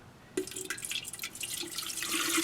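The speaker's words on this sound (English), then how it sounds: "We'll go ahead and put the water in." Water pours from a tap into a West Bend electric percolator, a close, steady splashing and trickling that starts abruptly and grows slightly fuller as the pot fills.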